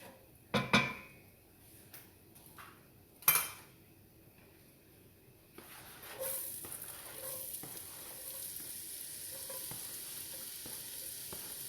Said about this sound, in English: Sorry if me tapping on the pans